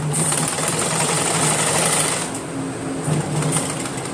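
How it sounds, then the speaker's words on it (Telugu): A sewing machine runs steadily while sewing a double stitch on a frock, giving a close, continuous rapid mechanical whirr with a slight change in pace partway through. "double stitch వేసుకొచ్చేద్దాము"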